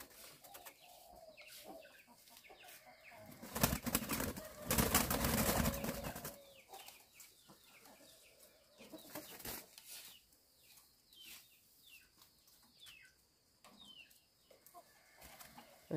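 Caged spotted doves coo and flutter softly on a Vietnamese bird-keeping property, their faint calls scattered through the quiet, with a louder rustling burst partway through and intermittent wing flaps.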